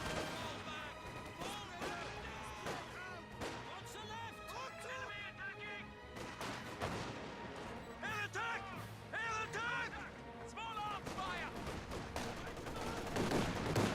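Dense battlefield gunfire from the video game Company of Heroes 2, with machine-gun bursts and heavy crashes and explosions layered continuously over game sound and music, loud throughout.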